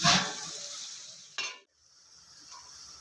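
Onion and tomato frying in oil give a close sizzle with a spoon stirring at the start, fading quickly, then a brief scrape before a quieter, lower sizzle continues.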